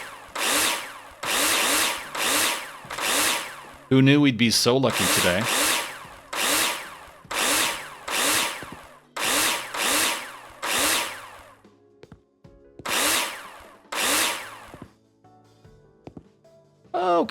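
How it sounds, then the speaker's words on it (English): A power drill screws in partitions in Builder Simulator, firing in repeated short rising whirs about a second apart, with a brief rattling burst early on and a quiet pause late, while a person speaks briefly between bursts. "Some more drill ASMR."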